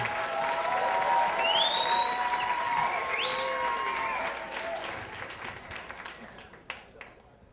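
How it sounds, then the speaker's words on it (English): An audience at a live storytelling event applauds as a performer comes to the stage, sustained dense clapping with a few voices calling out, fading toward the end. "A big round of applause for Matthew Dix as he comes up."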